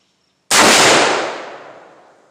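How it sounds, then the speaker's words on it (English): A single loud rifle shot from a Marlin .444S, a sharp close crack with a long decaying outdoor tail, alone without talk. "my son's going to take a few shots"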